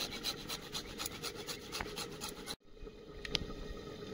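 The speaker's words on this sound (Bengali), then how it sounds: "এটা আদা কোরনে করে দেবো" Ginger is grated on a grater, giving fast, rhythmic rasping strokes close up, then a brief pause and a few quieter scrapes afterward.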